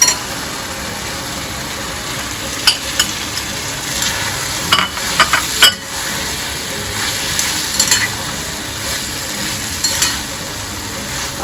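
Pointed gourd (potol) frying in a pan, an even hiss of oil with a low background hum and scattered sharp clicks and scrapes from stirring.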